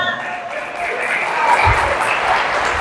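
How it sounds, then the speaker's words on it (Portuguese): A church congregation claps during a Sunday worship service, a sustained moderate patter of many hands with a voice faintly present underneath. "Aplauda o Senhor."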